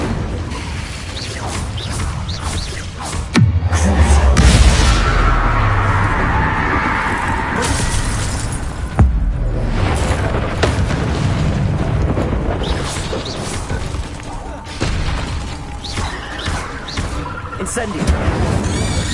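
Incendio fire spell bursting in Hogwarts Legacy, with a heavy booming blast and crashing, rumbling mechanical noise continuing for many seconds alongside a talking voice.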